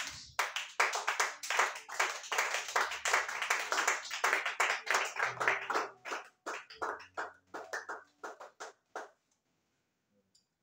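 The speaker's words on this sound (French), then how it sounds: "On acclame le Seigneur Jésus-Christ" A church congregation at a Sunday service claps in acclamation, many hands striking a brisk steady rhythm that grows less unified and fades out into silence near the end.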